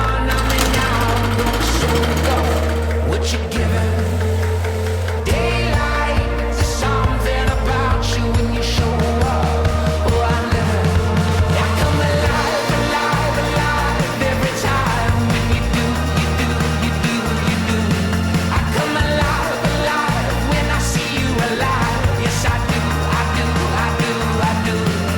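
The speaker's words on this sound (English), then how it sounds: "it was a fun last mow here on the front yard" A lawn mower cuts ryegrass on a front yard, its engine droning loud and close with a steady throbbing, the pitch shifting slightly as it moves, continuous throughout with no voices.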